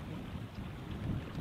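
Wind gusts across a riverbank during trout fishing, a soft continuous rushing with faint low buffeting that rises and falls slightly, no voices present.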